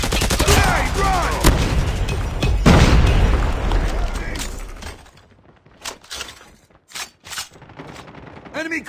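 A grenade blasts in a multiplayer shooter game amid heavy gunfire, with a loud boom and crackling debris early on, then scattered shots and faint game voice callouts as the noise thins out.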